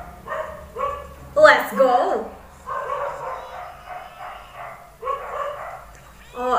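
Dog barking hard in an anime episode, sharp repeated barks in short bursts close by, mixed with people speaking.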